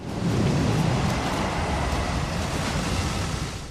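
Stormy sea waves in a movie storm scene roar as a steady, dense wash of surf and wind, loud and unbroken for the whole stretch with no voices.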